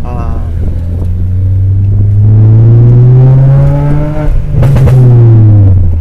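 A Honda Brio fitted with a Unichip piggyback tuning module revs loudly nearby, its engine note climbing and falling, with a sharp burst near the end as the gears change.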